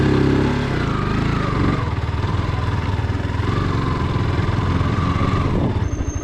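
A motorcycle engine idles and runs close by in a steady, loud drone, with slight changes in pitch and no talking.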